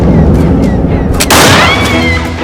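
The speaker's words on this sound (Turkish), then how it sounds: "Silah sesi miydi o?" A sharp, loud gunshot cracks out over a busy, noisy background, its blast trailing off with a ringing echo.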